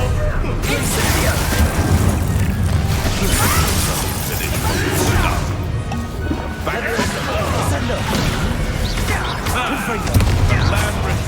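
Hogwarts Legacy's Incendio fire spell cast amid a wand duel, a dense, loud wash of blasts, crashes and whooshing impacts that keeps going, with voices talking over the combat.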